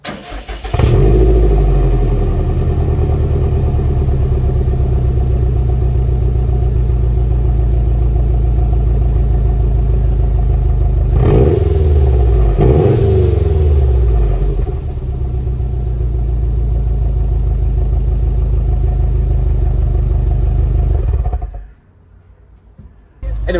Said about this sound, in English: it's still got the same sort of bump, bump, bump, bump, bump sound when you're ticking it over